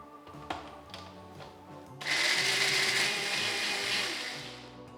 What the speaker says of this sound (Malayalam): ഇത് അരച്ചെടുക്കാം.